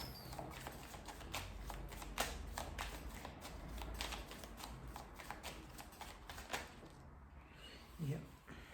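Tarot cards shuffled by hand in a series of quick, crisp riffling snaps spread evenly across the stretch, fairly close and moderately loud, with a low steady background hum.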